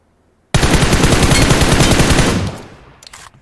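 A long, loud burst of rapid automatic gunfire rattles in a battle royale video game, starting abruptly and firing steadily for about two seconds before trailing off into fainter scattered shots.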